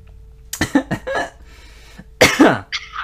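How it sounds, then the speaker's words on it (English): A person coughs in a few loud, close bursts, then a harsher hacking fit, with a steady electrical hum underneath and a brief higher-pitched noise at the end. "Why are you coughing?"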